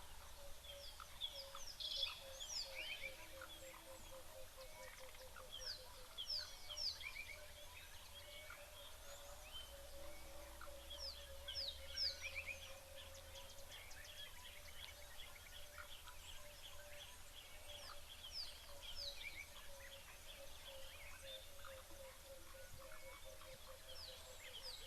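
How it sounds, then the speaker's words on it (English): An emerald-spotted dove calls softly at a waterhole in the African bush, faint repeated low cooing notes at a distance, with sparse chirps from other birds in the background. "Lovely sound, that emerald spotted dove. A little bit mournful at times, but it's a very soft and um, soothing sound to some extent."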